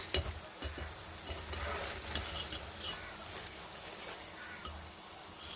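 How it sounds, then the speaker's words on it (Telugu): Cabbage pakodas fry in oil with a faint, even sizzle and light bubbling, joined by occasional soft stirring clicks. "ఈ లైట్ బ్రౌన్ కలర్ వచ్చేదాకా వీటిని కూడా ఫ్రై చేసుకొని తీసేయటమే"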